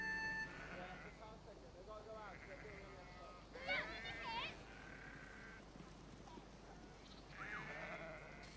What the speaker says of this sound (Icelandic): Það þarf að smala fénu af enginum.